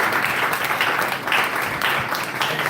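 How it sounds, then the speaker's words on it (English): An audience at a training session applauds an opening batsman, producing a steady, dense wash of clapping that holds at an even level for its whole length. "Please have a big round of applause."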